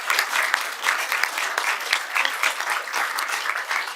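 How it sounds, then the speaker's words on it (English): An indoor audience at a board meeting applauds art teachers, with dense, steady clapping from many hands that holds at a constant level for several seconds, close and loud. "please give them a big round of applause"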